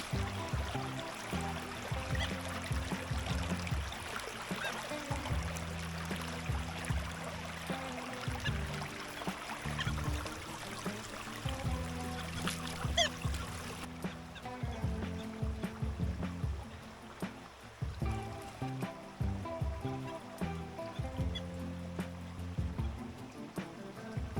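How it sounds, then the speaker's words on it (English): Water runs steadily down small cascades in a stream, a constant near burble and trickle, with occasional rustles of movement alongside. "Nice little cascades here."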